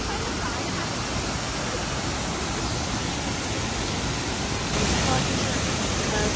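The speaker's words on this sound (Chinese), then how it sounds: "就是这样一个瀑布" A waterfall roars in a continuous, loud, broadband rush heard up close, a dense even hiss of falling water that never lets up and swells slightly near the end.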